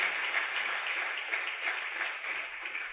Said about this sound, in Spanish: Dale ese aplauso a Jesucristo